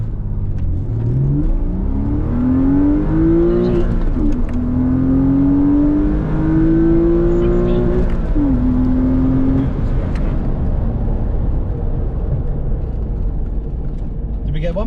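A Porsche Boxster launching hard from a standstill to 60 mph with some wheel spin, its engine roaring loud and close as it climbs through rising gears with brief dips at each shift, heard from inside the car.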